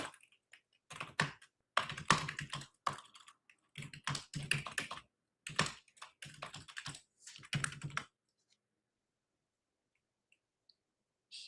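Aggressive, fast typing on a computer keyboard, loud bursts of clicking keys in rapid runs for about eight seconds, then near silence with a few faint taps.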